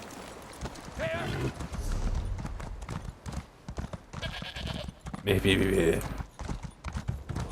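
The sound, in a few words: horse hooves galloping in The Elder Scrolls Online video game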